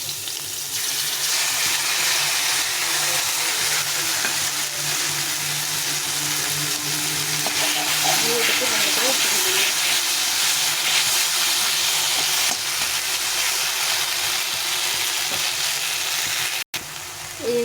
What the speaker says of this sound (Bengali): তেল দিয়ে আমি এই মশলাটা দিয়ে দেবো